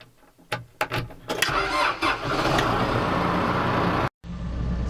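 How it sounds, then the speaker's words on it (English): A farm tractor engine cranks with several short bursts, then catches and runs at a steady loud idle, briefly cutting out near the end before resuming. "So I'm using his tractor today, of course, and excited to get this thing going."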